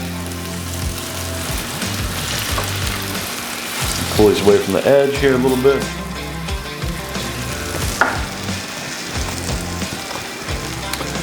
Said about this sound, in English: Nice, you can hear that sizzle.